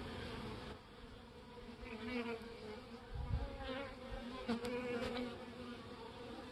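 Honeybees from a package settling into a new Langstroth long hive outdoors, a steady close buzzing hum with individual bees droning past near the hive.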